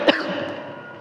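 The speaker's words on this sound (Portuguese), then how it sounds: "desculpa essa tosse chata" One short, sharp cough close to the microphone, followed by a fading hum of room tone.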